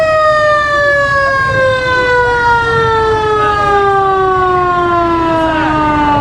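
A Loganville Fire Department fire truck wails its siren continuously during a Fourth of July parade, loud and close with a slowly falling pitch.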